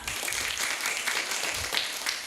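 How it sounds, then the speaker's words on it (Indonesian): Audience applause at a live school storytelling event in Gunungsitoli rolls on as dense, steady clapping from a crowd, fairly close and without break. "Mari kita berikan tepuk tangan yang meriah."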